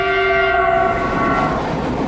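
A China-Europe Railway Express train runs along the tracks, its horn sounding as sustained, layered tones over a heavy rolling rumble that builds and then carries on as a steady roar near the listener.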